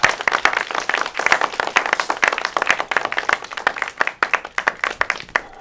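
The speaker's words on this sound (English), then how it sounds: "Let's give her a round of applause." A round of applause for a woman, brisk and fairly loud clapping from a small group, individual claps distinct and rapid throughout before thinning slightly at the end.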